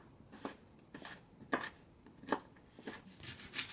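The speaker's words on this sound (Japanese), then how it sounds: "ニンニクを刻んでいきます。" Knife chopping garlic on a cutting board, a series of light, quiet taps in an uneven rhythm, close by.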